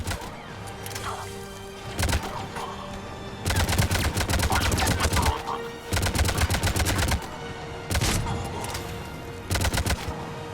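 Mass Effect 3 combat gunfire rattles in loud, dense automatic bursts, several sustained volleys of rapid shots separated by short pauses, close and overpowering.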